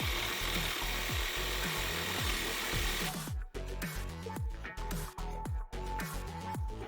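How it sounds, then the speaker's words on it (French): A Worx WX550 reciprocating saw with a steel blade cuts through a steel I-beam, making a loud, steady, rhythmic rasping stroke that continues throughout, with a few brief pauses in the later part. "j'ai quand même essayé de découper mon IPN avec la scie sabre"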